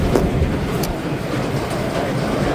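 A train rolls steadily past nearby, a continuous rumbling roar with faint clicking of wheels over rail joints.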